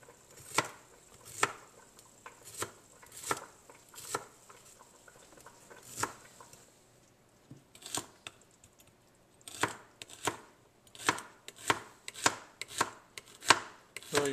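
A knife chopping celery on a cutting board gives sharp, distinct taps, first spaced irregularly and then speeding into a quicker, steady run of close, crisp cuts with no voices.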